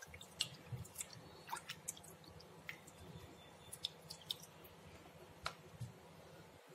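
Rava (semolina) being washed by hand in a bowl of water, with soft irregular drips, squishes and splashy ticks scattered at close range and low volume.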